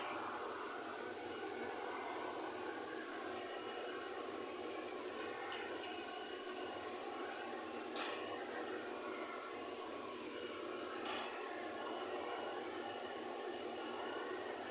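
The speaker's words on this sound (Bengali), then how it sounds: "বড়া ভাজতে শুরু করে দিয়েছি আমি" Bora fritters fry in a pan with a steady, even sizzling hiss throughout, broken by a few faint, brief pops.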